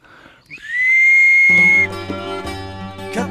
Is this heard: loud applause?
no